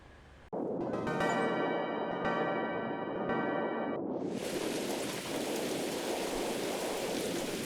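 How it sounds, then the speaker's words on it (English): Heavy rain in the video game Mothered pours down steadily after a sharp onset, with ringing tones early on and a wash of loud hiss taking over midway as a storm picks up. "This rain is so bleeding loud."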